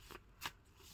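Oracle card deck being shuffled, two quick soft riffles of cards, close but faint, with no talk.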